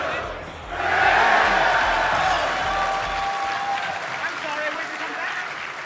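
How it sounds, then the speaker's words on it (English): A crowd at a PAX South 2016 gaming tournament bursts into applause and cheering that swells suddenly and then holds as a broad roar, with people talking underneath. "Don't clap for that."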